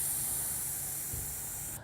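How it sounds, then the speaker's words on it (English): A Stihl pump-up garden sprayer sprays pesticide in a steady close hiss that slowly weakens as its pressure drops, then cuts off at the end. "I want y'all to hear what happens with the sprayer"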